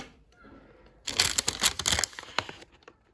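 A transparent sterilization pouch for a dry-heat sterilizer cabinet is handled up close, giving a dense burst of plastic crinkling and rustling that lasts about a second and a half, then fades to quiet handling.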